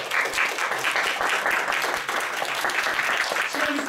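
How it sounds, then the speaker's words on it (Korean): A church congregation applauds steadily for a few seconds, dense overlapping claps filling the room at an even loudness. "이 모든 것들을 또 인도해 주신 우리 하나님께 감사의 박수 한번 드리고요"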